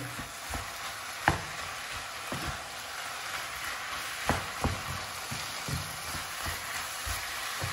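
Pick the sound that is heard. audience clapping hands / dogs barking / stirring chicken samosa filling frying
stirring chicken samosa filling frying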